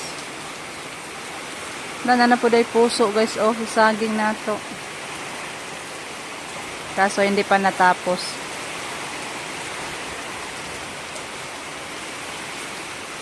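Heavy rain hisses as a steady broadband wash, pushed by strong wind, while someone speaks over it in two short bursts.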